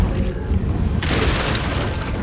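A booming fire-spell blast in the Hogwarts Legacy video game, a dense roaring burst that swells suddenly and carries on as a loud rumbling whoosh, with no voices.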